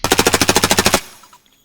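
Rapid automatic burst from an MP5 submachine gun in the game Escape from Tarkov, about a dozen evenly spaced loud shots over one second, then a brief fading tail and faint mechanical clicks.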